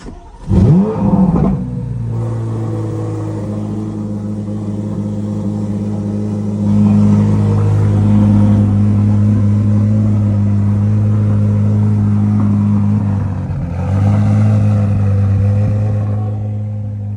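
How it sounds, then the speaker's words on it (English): Several cars in a home garage start up one after another: a starter cranks, engines catch and settle into a loud, steady idle, then swell twice with revving, all close by. "we're gonna rev them right now, so I'm gonna turn them all on again"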